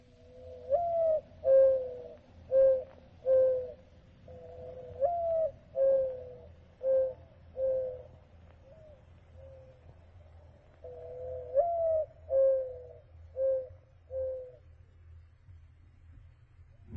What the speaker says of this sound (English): The voice of the mourning dove for me.